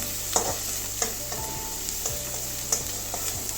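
Chopped ginger, garlic and chili frying in a pan as a spoon stirs, a low steady sizzle broken by several sharp scraping clicks against the pan.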